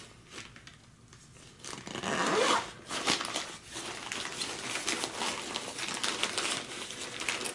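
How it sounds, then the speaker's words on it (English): Plastic zip-lock bags of EMS kit items are sealed and handled while packing a Pelican 1500 case, giving close, crinkly zipper-like rasps and rustling with a brief louder burst, no talking. "zip locked them, put them in there."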